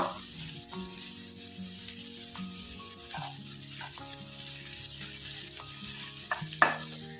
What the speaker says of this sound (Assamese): এইদৰে দি গোটেইখিনি ভালদৰে মিক্স কৰি দিব লাগিব।